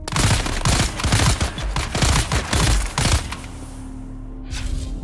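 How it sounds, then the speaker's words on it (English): Rapid bursts of weapon fire from a paralyzer gun in Dune Awakening, a loud stuttering series of sharp thumping shots for about three seconds, then a low steady hum. "He's gonna shoot me with some kind of paralyzer gun."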